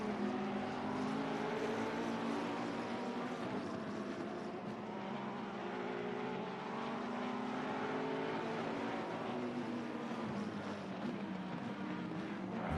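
A pack of GT3 race cars in a sim racing game drones steadily at full throttle, with overlapping engine notes rising and falling as gears shift, continuous and fairly distant.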